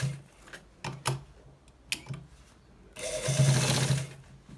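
An industrial sewing machine stitches the lower part of a trouser side pocket, with a few short, close stitching bursts followed by a longer steady whirring run near the end.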